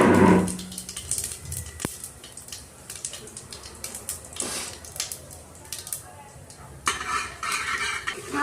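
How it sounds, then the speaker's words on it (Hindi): Cumin seeds go into hot oil for a soybean and potato curry, giving a soft crackling sizzle beneath spoon stirring and metal clinks against the pan, close and busy throughout. "अब डाल दिया जीरा"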